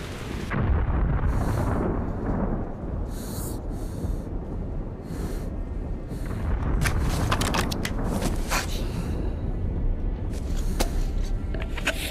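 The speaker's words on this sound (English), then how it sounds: "This radiation storm is killing me." Thunder from a radiation storm in the video game Metro Last Light, a continuous heavy rumbling roar with booming surges and crackling bursts, loud and unbroken throughout with no talk.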